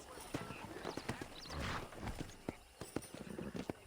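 Horse hooves clip-clop at a steady walking pace on a ranch in the Red Dead Redemption video game, close and moderately loud, with faint background ambience.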